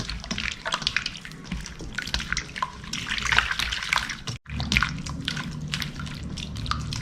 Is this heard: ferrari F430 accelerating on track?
no